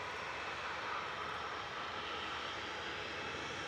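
A fixed-wing airliner departing Manchester Airport, its engines a steady, loud broadband roar that holds level and continuous throughout, with no voices.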